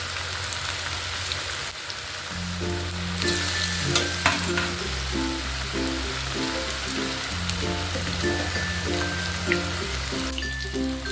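Sweet corn vadai fry in hot oil, a steady crackling sizzle with scattered pops and light stirring, close and continuous while background music plays.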